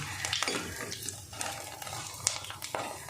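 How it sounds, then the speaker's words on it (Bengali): Sago papad frying in hot oil at home, a soft bubbling sizzle with intermittent splashy crackles, fairly faint and close, with no talking. "আমার তো এটা ভাজতে ভীষণ ভালো লাগছে"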